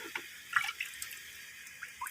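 Water is poured and dribbled over a large stone amulet, heard as faint close trickling and splashing with a few brief drips, quiet and without talk.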